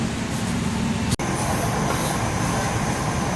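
Inside the Tegal Bahari executive train as it departs Cikarang station, a steady loud rumble of the rolling carriage is broken by one sharp clunk partway through.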